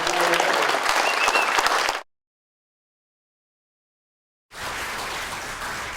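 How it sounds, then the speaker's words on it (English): Loud, dense applause from an audience greets new inductees at an American Football Association Hall of Fame ceremony. The clapping cuts to dead silence midway, then resumes as a steady wash of hands. "give a round of applause for the first 9 new Hall of Famers"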